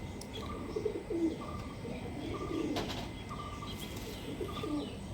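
Desi high-flying pigeons at a loft give soft, repeated coos, with several short calls spread through a quiet background and no speech.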